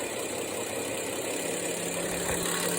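A diesel engine from a 12HT setup settles back to a steady idle, its low mid-range rumble continuous and fairly close with constant vibration throughout.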